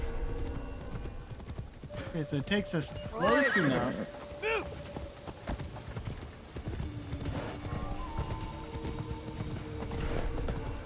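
In the Assassin's Creed Shadows video game, a horse's hooves clip-clop steadily and the horse whinnies loudly partway through, while a person talks over the game sounds.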